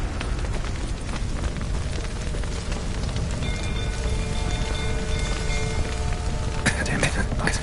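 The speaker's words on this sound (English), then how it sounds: "Looks like rain." Steady rain falls throughout in a video game, a dense, continuous patter and hiss that stays even and fairly loud, with a brief burst of extra noise near the end.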